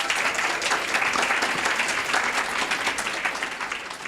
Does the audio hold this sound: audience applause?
yes